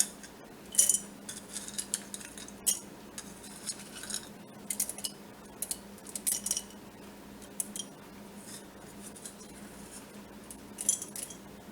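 Dry pinto beans are scooped and poured into glass canning jars, giving scattered light clicks and rattles of hard beans striking glass in short bursts over a quiet background.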